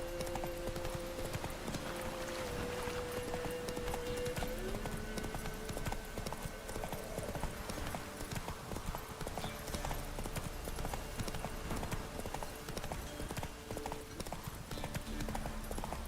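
Hooves of Roach the horse clip-clop in a steady galloping rhythm throughout, in The Witcher 3 video game, with game music and faint background tones beneath.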